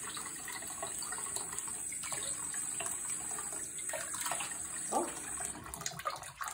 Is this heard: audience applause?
no